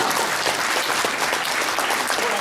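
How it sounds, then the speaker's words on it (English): Wedding guests applauding in a reception hall, a dense, loud, continuous round of clapping with no talking. "You can clap now."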